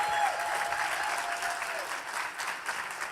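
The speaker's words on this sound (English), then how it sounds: "Let's give them a round of applause." A summit audience gives a fairly quiet round of applause, steady clapping that fades a little toward the end, with a faint voice briefly over it.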